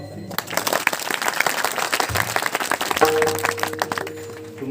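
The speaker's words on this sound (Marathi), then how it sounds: "तुमच्या टाळ्या जास्त आल्या" An audience at a comedy kirtan claps for several seconds, a dense burst of applause with music and a voice mixed in underneath.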